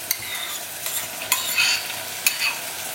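Prawns frying in a pan with garam masala and chili powder are stirred, giving a steady close sizzle broken by a few sharp scraping clicks of the spoon against the pan, with no talk.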